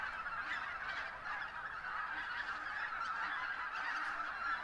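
A large flock of geese honks continuously at a spring stopover field on farmland, a dense, steady chorus heard from a moderate distance with no voices.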